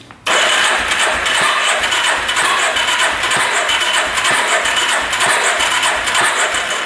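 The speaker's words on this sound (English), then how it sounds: "Nope, just backfiring." A UTV engine, only 700 miles old, cranks continuously in a loud, steady churn, broken by sharp backfire pops as it fails to start after the ignition pickup coils below were repaired.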